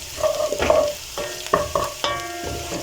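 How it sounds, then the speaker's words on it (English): Cumin seeds fry in hot oil for a potato stew, with a soft sizzle under stirring scrapes and clinks that come in a few separate bursts, close by and with no voices. "the cumin seeds, and then fry it until the flavor"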